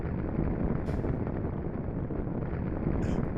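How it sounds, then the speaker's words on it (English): A huge fire roars in the Clock Tower game, a loud, steady, dense rumble like a jet engine that fills the space without pause, with brief faint hisses on top. "That fire is extremely loud."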